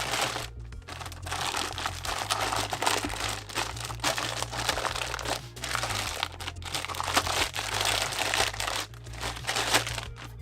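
Plastic wrapping crinkles and crackles continuously as an AV Access dual-monitor 4K HDMI KVM switch is pulled free of it, close and steady for about ten seconds with no talk.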